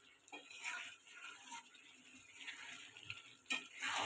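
Water poured into spicy chicken kosha with potatoes cooking in a pot, a quiet, steady splashing trickle with a faint hiss, ending in a brief louder splash.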